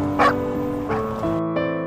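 A small cartoon dog gives a few short yips and whimpers in a row, fairly close and clear, with a faint musical background and no talk.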